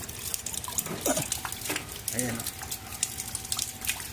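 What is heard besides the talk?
water flowing through a sink drain pipe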